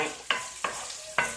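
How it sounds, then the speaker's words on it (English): A spatula stirs food in a hot pan on a stovetop at medium heat, three scraping strokes over a steady sizzle, close and clear. "stir that around"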